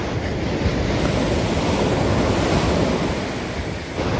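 Ocean waves break and wash continuously at Swami's Reef surf spot in Encinitas, California, a loud, steady roar of surf with wind buffeting the microphone and no voices.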